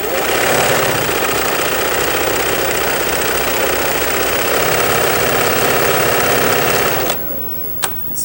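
A home sewing machine stitches stretchy bias-cut slacks fabric in one loud, fast, steady mechanical whir that runs for about seven seconds, stops abruptly, and is followed by a couple of faint clicks.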